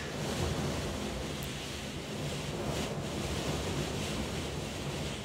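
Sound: strong wind blowing into the microphone at a kart track

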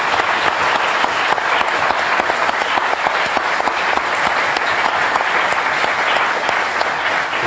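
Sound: audience applause on a TV show

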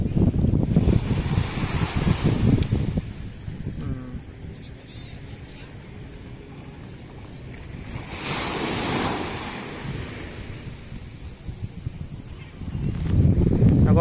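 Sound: calm sea waves at Patong beach

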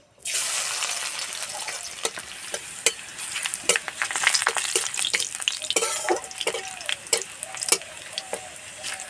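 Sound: crushed garlic frying in a pan

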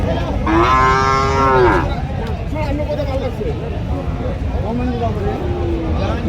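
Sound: cattle mooing at a livestock market

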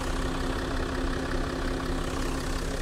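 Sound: Range Rover Sport engine idling, slightly rattly

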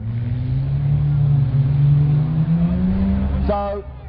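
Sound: race cars racing at Mildenhall

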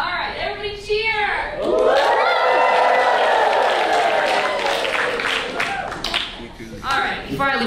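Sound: crowd cheering and clapping

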